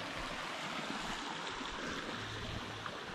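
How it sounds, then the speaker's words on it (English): Thompson Creek on a wilderness backpacking trail in Alabama, a steady, full rushing of flowing water that fills the scene evenly and continuously, close by, with no voices. "We are back to the Thompson Creek. It's flowing nicely right through here."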